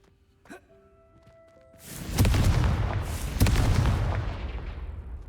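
A Confringo blasting spell goes off in the Hogwarts Legacy video game, a sudden loud booming explosion that swells and rumbles on for several seconds after a quieter click.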